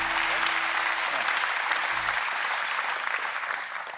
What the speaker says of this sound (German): Ich höre den Applaus